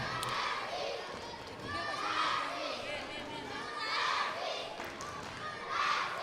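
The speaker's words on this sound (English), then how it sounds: "And you can hear the sounds of the crowd. They're loving this." Crowd at a women's football match, Uruguay against Switzerland in the Nations Cup 2025, a steady roar of spectators with swelling cheers and chatter rising and falling throughout.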